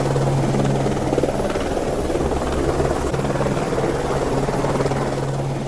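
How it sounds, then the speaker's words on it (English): A helicopter's rotor and engine give a loud, steady whirring drone with a constant chopping throb, continuous and close for the whole stretch, with no talking. "Look, the helicopter has delivered the car parts to us."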